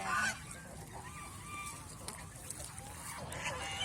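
Domestic geese stranded on dry ground among water hyacinth honk close by, starting with a loud nasal call and followed by a run of quieter overlapping honks.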